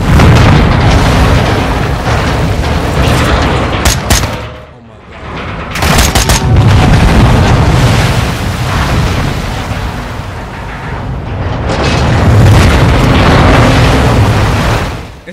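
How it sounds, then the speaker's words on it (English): Booming blasts and bursts of gunfire from the Modern Warfare 2 campaign, loud and dense throughout with brief dropouts, and a voice talking over the clamor. "Bomb."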